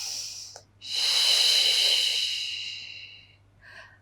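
A long, breathy inhale through the nose during an intermediate Pilates mat exercise, close and hissing, swelling then tapering over a few seconds, framed by shorter sniffs before and after.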